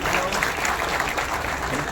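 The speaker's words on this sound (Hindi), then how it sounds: "सबके लिए ताली बजाओ" Dense, steady audience clapping fills a campaign office event for Mahayuti candidate Sanjay Shirsat, loud and continuous throughout, with voices mixed into the crowd noise.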